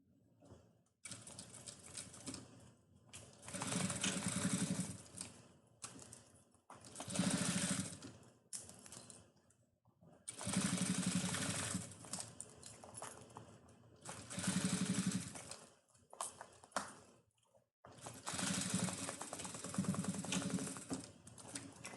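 A sewing machine stitches rubberized nylon for a lunch bag, running in several loud, sustained bursts of rapid whirring separated by short quiet pauses.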